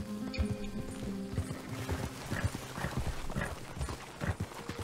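Horse hooves clip-clopping in the video game Red Dead Redemption 2 during a herding ride, a steady rhythmic trot at close range over a low humming game score, with no talk.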